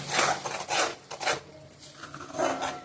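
Tomato paste for red sauce pasta is stirred in a nonstick pan, making soft, close rasping scrapes in uneven strokes with quieter pauses between them.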